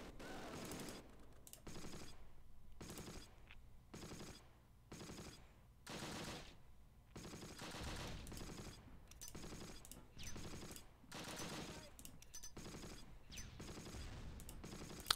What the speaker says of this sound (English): There's a lot of grenades apparently going off there.